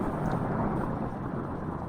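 Deep rumbling thunder in the horror video game Amnesia, a broad, steady roar filling the background for the whole moment with no talk over it.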